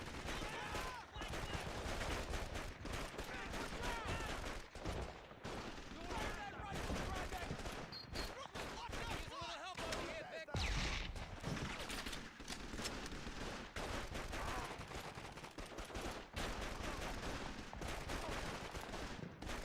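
Dense, continuous gunfire in Call of Duty 2: Big Red One on PS2, rapid overlapping shots and bursts from soldiers fighting Italian troops, loud and relentless throughout with a brief heavier blast in the middle.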